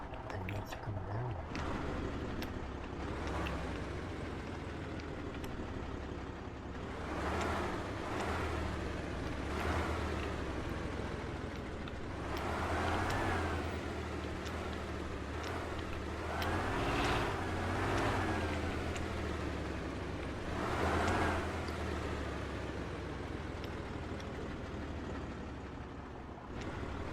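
A car engine runs continuously, a steady low rumble with rising and falling whooshing swells, moderately loud and close, while people talk over it now and then.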